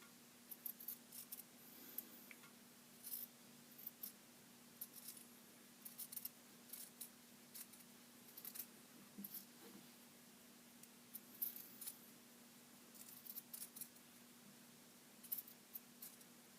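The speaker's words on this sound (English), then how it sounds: "So the next thing we do is cut this down to 1/8." Scissors snip through the fabric of a French seam, trimming it down to an eighth of an inch. Quiet, close cuts come in short irregular bursts with faint pauses between them.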